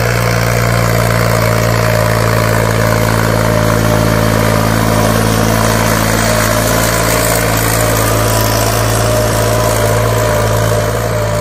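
A modified New Holland 3630 tractor engine runs steadily and loudly up close, a deep low idle throb with a constant mechanical drone throughout and no voices.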